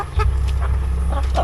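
Rhode Island chickens in a cage cluck in short, close, repeated calls over a steady low background hum.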